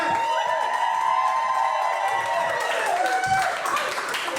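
A comedy club audience applauds and cheers as comedian John F. O'Donnell takes the stage: a full, continuous roar of clapping with whoops and shouting voices running throughout, close and loud.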